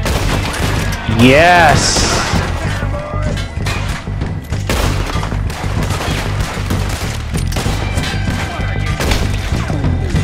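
Rapid gunfire rings out in Red Dead Redemption 2 during a gang attack on a camp, loud repeated shots and cracks over constant game music and ambience, with a voice briefly heard.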